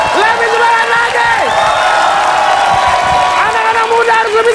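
Studio audience at an Indonesian television game show cheering and whooping with clapping beneath, a loud sustained crowd roar with high shouts rising above it.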